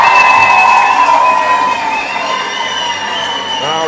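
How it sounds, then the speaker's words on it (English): A loud crowd cheers and shouts continuously, with whistles and sustained high-pitched yelling filling the space. "Let's give Lil Hawk another round of applause"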